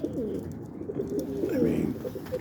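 Several pet pigeons coo steadily and close by, their low, rolling calls overlapping throughout with a faint murmur in the background.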